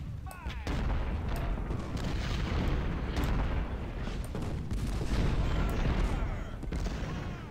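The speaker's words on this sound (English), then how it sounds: "Oh, hello, artillery." Artillery fire in the Ultimate General video game booms in repeated heavy blasts and cracks over a continuous rumbling battle din.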